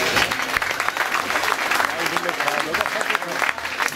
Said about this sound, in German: Auch die Presse hat einen Beifall verdient.